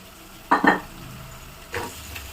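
Tomatoes sauté in a pan with salt for a chicken dish, giving a soft continuous sizzle broken by a quick double scrape of stirring and a later, fainter stir.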